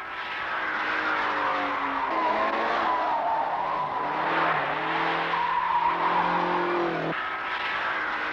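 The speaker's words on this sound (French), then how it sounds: "Sur 40 km de piste, chaque jour de l'année, les voitures roulent," Several cars roar continuously at high speed around a Michelin test track, with rising and falling engine pitch and tires squealing, loud and sustained throughout.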